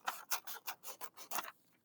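Scissors snip through paper to cut out a parallelogram in about seven quick, rhythmic, close crisp cuts, then stop.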